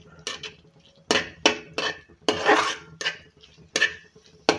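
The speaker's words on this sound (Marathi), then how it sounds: "आता हे छान असं फिरवून घ्यायचं" Paneer bhurji being stirred in a pan, a series of sharp spoon scrapes and clinks against the metal in an uneven rhythm, close and loud, with no voices.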